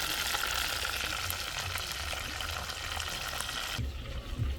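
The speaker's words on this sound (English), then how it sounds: "I'm frying fish today." Fish fries in hot oil outdoors under a mango tree in Jamaica, giving a loud, dense, crackling sizzle. Near the end it drops off sharply to softer bubbling.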